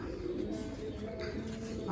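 Soft, steady pigeon cooing fills a pigeon loft, low murmuring calls overlapping continuously at close range with no talking.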